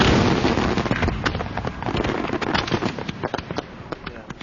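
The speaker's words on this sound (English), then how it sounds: "that button will correspond to that firework and discharge it into the air" Professional fireworks shells, ignited electrically by a computer-scripted firing system, launch and burst in a dense, continuous barrage of loud crackling pops that gradually thins out.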